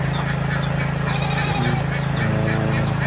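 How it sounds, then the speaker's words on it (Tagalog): A dense, continuous chorus of honking and clucking chickens, including roosters, close and busy, with a steady low hum underneath. "So, ayan ang mga manok natin."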